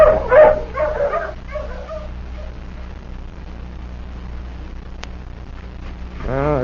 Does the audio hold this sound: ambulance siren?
no